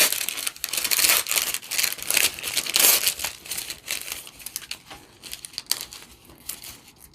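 Paper backing is peeled off ironed-on Pellon 805 fabric, giving a close, crackling, crinkling rip in bursts that fade toward the end, with no voices.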